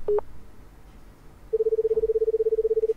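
Telephone keypad tones dialing the police in a video game: two short beeps at the start, then after a pause a long, steady run of rapid, evenly spaced tones, clear and alone over a faint background hum.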